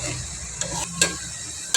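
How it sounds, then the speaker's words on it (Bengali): Chopped ripe tomatoes stirred into a frying masala of dried kachki fish, a short burst of sizzling with a few sharp spoon scrapes and knocks against the pan. "একটু নেড়ে নেব ভালো করে"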